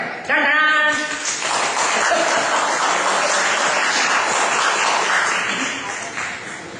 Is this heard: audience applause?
yes